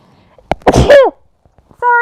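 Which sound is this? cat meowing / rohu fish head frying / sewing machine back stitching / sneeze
sneeze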